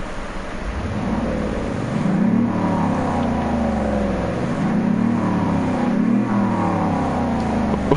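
Car engine revving in Car Mechanic Simulator, sandbox mode: a loud, steady motor drone that climbs in pitch three times in repeated rev sweeps over eight seconds, with no talking.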